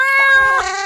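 A single drawn-out cat meow, clear and close, rising and then bending down over about a second, from an Xbox One quiz game.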